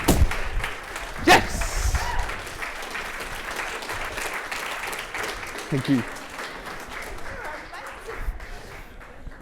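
An audience claps after a feat of mental maths, a brief wash of applause heard under a speaker's voice and a sharp thump, fading gradually.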